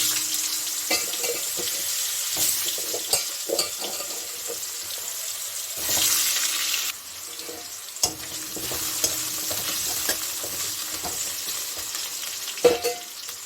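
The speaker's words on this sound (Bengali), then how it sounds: "এখন আমি ওই তেলে মাছের তেলে আলুটাকে ভেজে নিতাম" Potatoes frying in leftover fish oil in a home kitchen, a steady close sizzle broken by stirring scrapes and clinks, with a brief louder burst midway; no one talks.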